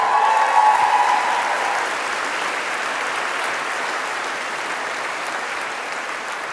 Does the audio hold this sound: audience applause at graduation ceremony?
yes